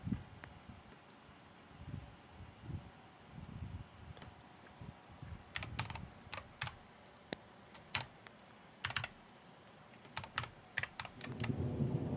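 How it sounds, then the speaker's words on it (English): Keys clack on a computer keyboard during a live stream, a slow, uneven run of soft taps and sharper clicks with a few louder strikes near the middle and end, against a quiet room background. "I might be the slowest typer."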